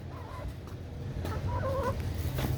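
Hens on a farm cluck softly in a few short calls over a low rumbling background, fairly faint and without speech.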